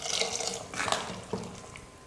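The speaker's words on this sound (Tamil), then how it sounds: "கொஞ்சமாக தண்ணி சேர்த்து நான் மிக்ஸ் பண்ணிக்கிறேன்" A little water is stirred into a chickpea masala kuzhambu, giving soft wet sloshing and scraping sounds in a few irregular bursts, moderately close and fairly quiet.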